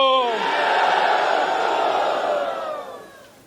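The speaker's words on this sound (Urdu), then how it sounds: "نعرے بھٹو" A large crowd at a Pakistan Peoples Party workers' convention in Chitral roars back a slogan in unison, a loud sustained mass of voices that swells and then trails off over a few seconds.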